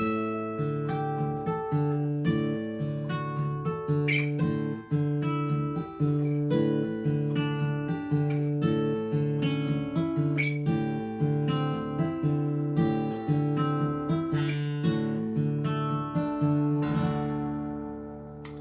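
A guitar plays a fingerpicked pattern across several chords, with close, clear plucked notes in an even rhythm that rings out at the end.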